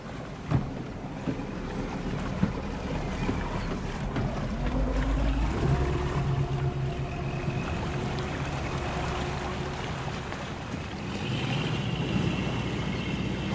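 A boat's engine drones steadily beneath wind and water noise, a continuous low rumble with a shift in pitch midway.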